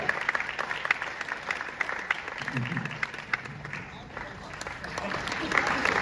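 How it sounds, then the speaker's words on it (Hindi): Faint, sustained applause from an audience at a stage tribute with actress Helen present, someone talking over the clapping the whole time. "तालियां रुकनी nahi chahiye"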